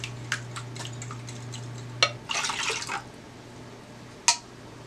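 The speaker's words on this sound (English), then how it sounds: "Now I'm going to add my 4 cups of milk. I'm doing it gradually." Milk is poured gradually into a custard mixture for rum bread pudding, giving a soft, close liquid splash and pour lasting about a second, amid light clinks and taps of a utensil against a bowl, a steady low hum behind.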